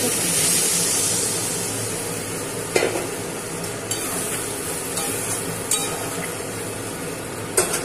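Water poured into a pan of sautéed pointed gourd for a potato curry, making a steady sizzling hiss with a few sharp clinks and scrapes of utensils against the pan.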